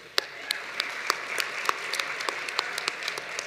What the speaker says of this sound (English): please give yourself just another round of applause because it's worthy.